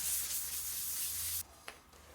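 Wood filler on a marquetry piece is sanded by hand in a circular motion, giving a steady, close, scratchy rubbing that runs for over a second and then stops, followed by a faint tap.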